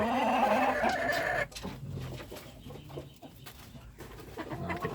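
Plump chickens clucking close by on a farm, a busy burst of clucks and calls at the start that drops away into quieter scattered clucking and rustle.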